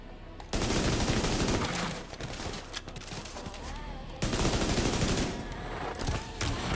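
Automatic gunfire in The Division 2, Ouroboros mode, long rattling bursts of rapid shots with short pauses between them, loud and dense throughout.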